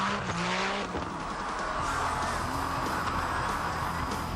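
An 800-horsepower Suzuki Grand Vitara race car at the 2001 Race to the Sky hill climb screams at high revs, with tyre squeal and shifting engine pitch, loud and continuous.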